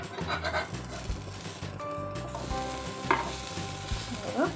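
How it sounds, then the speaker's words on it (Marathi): Sweet corn chilas sizzle steadily in a hot pan while a spatula scrapes and flips them, with clinks and scrapes over the close frying hiss. "आता आपले तिन्ही चिले झालेले आहेत आता आपण ह्याला पलटवायचं आहे"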